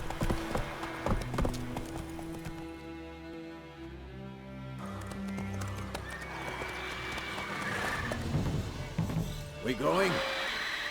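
Hooves of Roach, a horse in The Witcher 3 video game, clop in a steady galloping rhythm with a whinny, set against music and game sounds while voices call out.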